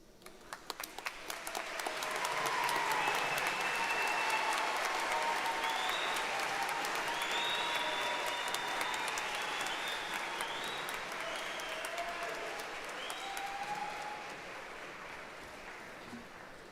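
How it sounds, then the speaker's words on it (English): A large audience applauds graduates at a 2026 NC commencement ceremony. Dense, steady clapping swells in after a second and holds loud for the rest of the clip, with scattered whoops and cheers rising above it. "Let's hear one more round of applause for these graduates."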